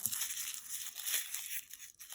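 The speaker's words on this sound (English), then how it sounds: "You'll want to take this piece and crumple it up," Tissue paper is crumpled up by hand for a faux silk craft project, a close, continuous crinkling and rustling that lasts about two seconds without pause.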